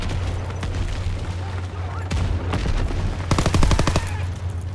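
Bursts of rapid automatic machine gun fire in Call of Duty: WWII, on a D-Day mission, including a dense rattling volley near the end, over a low engine-like hum and faint background chatter.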